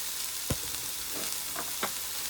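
Chili hits a hot pan of spiced spinach bhaaji, giving a brief crackling sizzle with a couple of sharp spits and stirring taps against steady frying noise.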